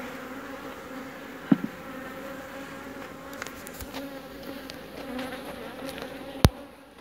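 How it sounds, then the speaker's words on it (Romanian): A dense swarm of honey bees drones steadily after a hive frame is shaken, a close continuous buzz with a few sharp knocks and clicks from handling the frame. "Ia uitați-vă cât surplus de albine este acum după ce am scuturat această"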